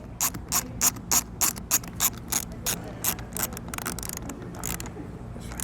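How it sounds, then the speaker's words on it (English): Ratchet wrench with a 10mm socket tightening a ground stud on a Champion inverter generator, a close series of quick rhythmic clicking bursts that speed up and blur into a faster run of clicks. "we're going to have a 10mm socket to attach our ground, so we just put the eyelet around the stud there and tighten that down"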